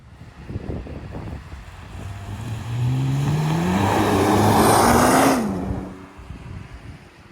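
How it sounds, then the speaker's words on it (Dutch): Nissan R35 GT-R engine revving hard as the car accelerates, a rising, swelling roar that peaks midway with wind rush, then eases back to a lower cruising drone. "Vandaag ga ik rijden met deze Nissan GTR"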